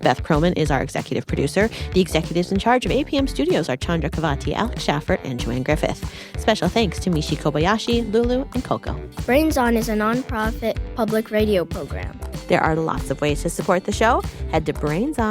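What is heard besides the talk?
No everyday noise stands out behind the speech.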